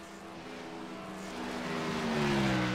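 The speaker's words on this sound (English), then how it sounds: "I think I hear him downshifting there into three as they come out." Race car engine on a racing circuit, a continuous loud drone whose pitch steps and sweeps as the gear changes down into third, close and steadily growing louder, with no talk.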